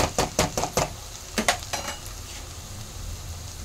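Onions frying in a pan, with a run of quick stirring scrapes and clinks up front, then a close, steady sizzle on its own.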